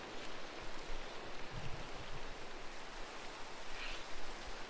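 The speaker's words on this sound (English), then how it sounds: "It's raining again." Rain falls in the Minecraft world as a soft, steady hiss of droplets, quiet and continuous, with a few faint scattered patters and no voices.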